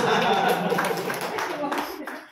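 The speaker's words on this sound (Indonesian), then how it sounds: "Tepuk tangan dulu." Audience clapping at a company orientation workshop in Bandung, a short burst of claps mixed with chatter and voices, fading toward the end.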